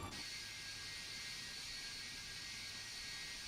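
Steady whine and roar of an MD-88 jet engine in a flight simulator, a constant high-pitched hum over a low rumble, quiet and unchanging with no talk.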